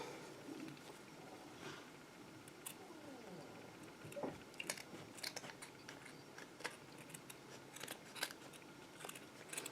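Scissors snipping through craft material while trimming embellishments on a butterfly fairy figure, a series of quiet, irregular close clicks and cuts, some in quick bursts.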